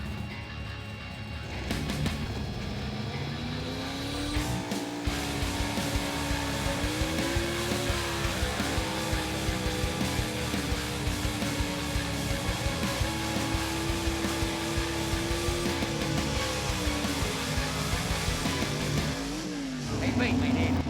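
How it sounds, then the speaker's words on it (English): An old 1950s Chevy race car roars around a track, its engine holding a steady high drone with slight pitch swells through the run, loud and continuous from start to finish. "driving the old 50-some model Chevy called Roach Coach"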